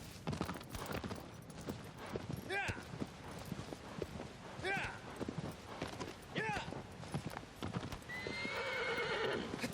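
Steady clip-clop of horse hooves with repeated whinnies, in a Shadow of the Colossus game soundscape with faint background noise.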